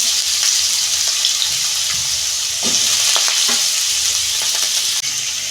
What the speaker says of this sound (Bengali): আলু আর পেঁপে একসঙ্গে আমি ভেজে নেব।